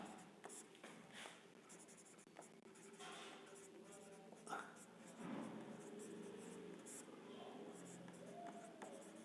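Quiet handwriting during a class 8 maths lesson on compound interest, with soft scratching strokes running under a teacher's low talk.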